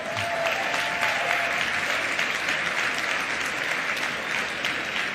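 An audience at an education event applauds the panelists and speakers, a full, continuous roar of many people clapping at an even level from start to finish.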